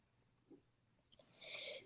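A small child sneezes once, faint and brief, over an otherwise quiet online call line.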